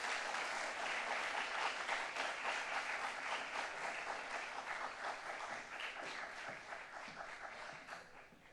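An audience at a parents' prayer meeting applauds to welcome a visiting professor, a dense sustained clapping that stays loud for several seconds and then slowly thins out.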